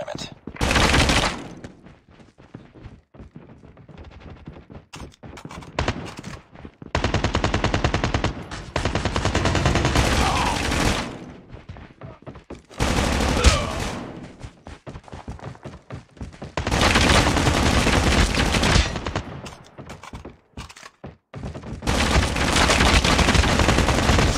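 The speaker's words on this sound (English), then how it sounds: "Sentry gun ready for deployment." Bursts of rapid automatic gunfire from a sentry gun in Call of Duty Mobile, loud fusillades separated by short gaps and other battle clatter, with voices speaking in between.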